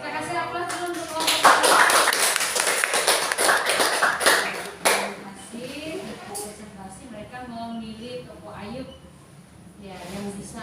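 Classroom applause for a student group after its presentation in a Christian religious studies lesson at IAKN Ambon: a burst of steady clapping from many hands swells, then fades after a few seconds, followed by a teacher talking.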